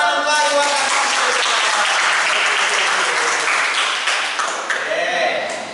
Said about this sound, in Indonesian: Tepuk tangan untuk Ayu akan tampil.